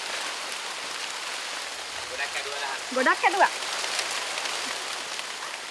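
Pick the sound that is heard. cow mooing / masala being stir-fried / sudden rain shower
sudden rain shower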